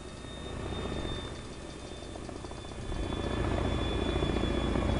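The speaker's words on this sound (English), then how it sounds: "Chinook flies overhead." A Chinook helicopter in the Epoch survival game passes overhead, a continuous deep rotor thump and engine roar that swells louder toward the end.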